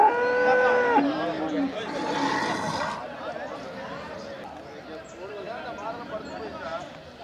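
Cattle at the Pollachi cattle market give a loud moo at the start, followed by softer lowing, with people chattering and bargaining nearby.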